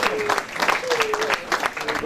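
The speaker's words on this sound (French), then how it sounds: "je crois qu'on peut les applaudir bien fort" An audience at an evening middle-distance athletics gathering in La Roche-sur-Yon claps steadily and fairly close, a dense patter of applause with a faint tonal whistle and some voices mixed in.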